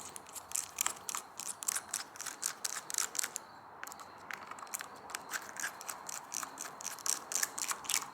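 A hand tool works a tightly fastened Torx bolt on an oily, worn KTM two-stroke motorcycle, giving quick repeated metallic clicks and scrapes at close range, steady and fairly quiet throughout with no talking.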